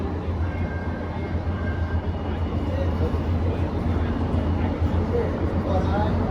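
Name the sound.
Metro A Line light rail train bound for Long Beach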